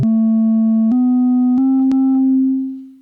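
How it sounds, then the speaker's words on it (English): A steady pure synthesizer sine-wave tone that steps up slightly in pitch a couple of times with small clicks, then fades out at the end. "the first thing we're going to see is a sine wave"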